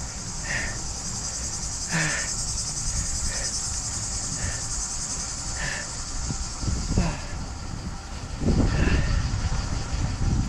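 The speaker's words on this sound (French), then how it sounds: "Et les sauterelles ou les cigales ou je sais pas quel animal fait ce bruit." Cicadas or grasshoppers chirr in a steady, high, continuous drone in summer heat, with a few fainter, separate chirps and occasional low rumbles underneath.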